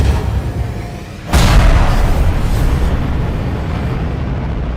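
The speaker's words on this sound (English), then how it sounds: "I layered a bunch of engine sounds with explosions to really give it that oomph." Layered rocket launch effect built from engine roars and explosions for a Minecraft animation: a steady low rumble, then a sudden loud booming burst around one second in that settles into a sustained, dense roar.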